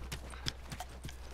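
Horse hooves clip-clopping in The Last of Us, about five soft, evenly spaced hoof strikes over a low steady hum.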